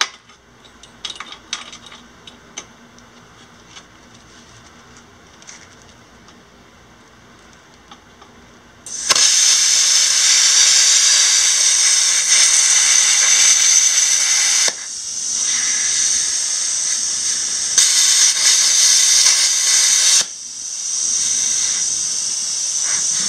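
Plasma cutter with a circle cutter attachment cutting metal: after quiet clanks, a loud continuous hiss runs for several seconds at a time, broken by short pauses.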